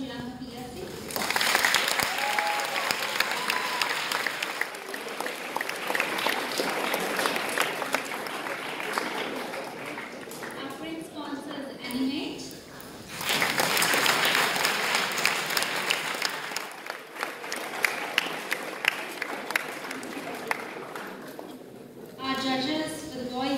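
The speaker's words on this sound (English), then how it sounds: "Can we have a round of applause to our platinum sponsors," An audience at a boys' semi-final of a school drama competition breaks into sustained applause in long waves, with an announcer speaking over the gaps between bursts.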